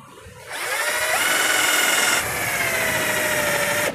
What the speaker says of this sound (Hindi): आसानी के साथ आप छेद कर सकते हैं।